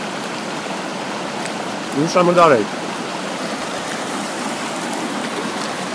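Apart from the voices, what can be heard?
mountain stream flowing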